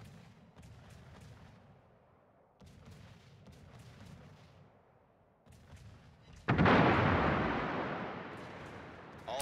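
Naval guns firing in World of Warships, with several deep, rolling booms spaced a few seconds apart, then a louder, sustained heavy blast that slowly fades, alone without talk.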